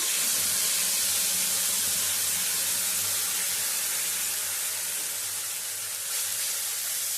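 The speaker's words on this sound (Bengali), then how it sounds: "টমেটো আর রসুন দিয়ে বানিয়ে নেওয়া পেস্টটা এর মধ্যে দিয়ে দিলাম" Tomato and garlic paste hitting hot leftover frying oil gives a loud, continuous broadband hiss that stays steady and close throughout, easing only slightly near the end.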